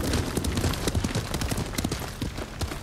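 Horse hooves clip-clop steadily at a quick, even pace, fairly close and alone without talk, with a dense layer of outdoor game ambience in Ghost of Tsushima.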